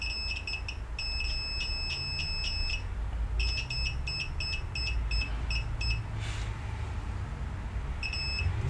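A multimeter in continuity mode on an ASUS G75V laptop motherboard, probing a GPU power rail, gives repeated short high beeps, some held briefly, in bursts with gaps, loud and close over a low background hum.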